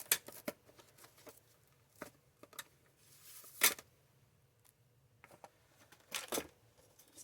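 A roll of tape clanks and knocks around on a crafting desk during stamping work, giving a few sharp irregular clatters and taps spread among quieter handling noises, close by with no talking.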